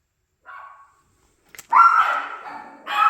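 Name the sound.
dogs barking outside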